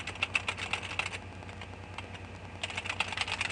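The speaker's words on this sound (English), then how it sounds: "You just type in the numbers." Quick, light keystrokes as numbers are entered on a computer keyboard for a dental periodontal chart, coming in two bursts of rapid clicks with a quieter pause in between, close and soft.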